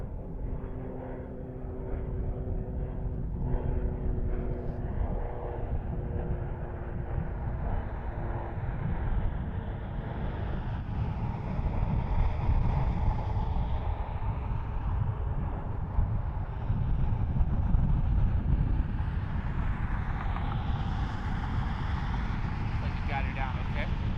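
A plane arriving from Knoxville, Tennessee, at Cleveland Hopkins airport hums with a steady engine drone that swells slowly over about twenty seconds, steady and moderately distant, while a person talks over it much of the time.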